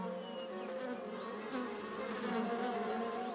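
Bees work flowers for nectar up close, producing a steady, layered buzzing hum with slight shifts in pitch as they move between blossoms, fairly quiet and continuous throughout.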